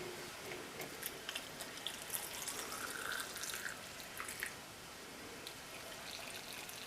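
Boiling water is poured from a kettle into canning jars packed with spinach, a steady faint liquid trickle with small splashes and drips, fairly quiet and close, with no talking.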